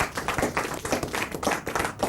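Children clapping for their parents at a national bravery awards ceremony: a brisk, steady round of many hands applauding, close and moderately loud throughout the short burst.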